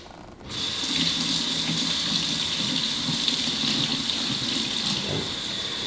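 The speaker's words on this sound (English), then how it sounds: "I'm going to get the brush wet with a little hot water. Normally the bathroom sink." Hot water gushes steadily from a bathroom sink tap onto a shaving brush, a close, continuous hiss and splash that starts abruptly and runs on without any talk.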